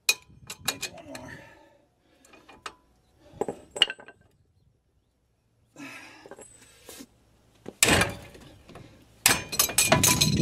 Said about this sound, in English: I just gave her a few more whacks on the flange and she finally dropped out